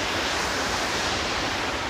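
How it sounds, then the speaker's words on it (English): Vasudhara waterfall pours down amid mountains in a steady, dense roar of rushing water, loud and unbroken throughout with no voices. "you can see this milky white waterfall flowing down"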